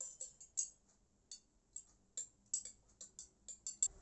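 A spoon stirring a tea bag in hot water inside a glass gives a quick, uneven series of bright, light clinks against the glass, close and fairly quiet, with no voices.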